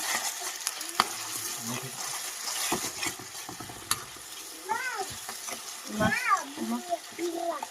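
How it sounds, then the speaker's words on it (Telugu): Ginger-garlic paste fries in a pan for chicken curry, sizzling softly under intermittent talk, with a cat meowing several times nearby and occasional utensil clicks. "అల్లం వెల్లుల్లి పేస్ట్ మొత్తం అయితే బాగా ఫ్రై చేసుకున్నాము."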